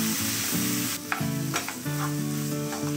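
Squid with spices and salt stirred in a pan for a Jaffna-style Sri Lankan squid curry: steady close sizzling with scraping spoon strokes and tonal hum running throughout.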